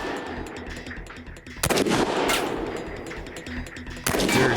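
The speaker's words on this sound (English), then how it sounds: "To test this myth, Jamie will have to shoot the Cadillac's gas tank." Loud gunshots fired at the gas tank of a Cadillac in a myth test: two sharp, booming reports a few seconds apart, with reverberating tails and background noise between them.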